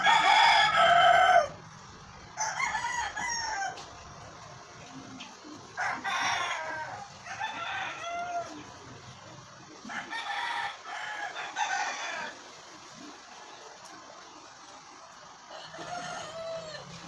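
Several chickens and roosters close by, with repeated loud crowing calls and clucking recurring every couple of seconds over a quiet background.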